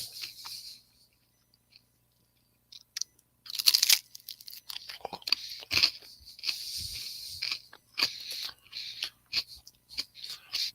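Crunchy pizza crust with plenty of sauce being bitten and chewed up close, a run of loud crisp crunches after a quiet start, continuing in irregular bursts.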